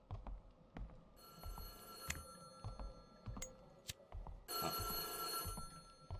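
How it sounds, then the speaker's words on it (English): A telephone rings in the horror game White Day: A Labyrinth Named School, with two separate bursts of bright, metallic bell ringing over quiet, dark background noise and scattered soft thumps. "I'm gonna pick up the phone for the one time."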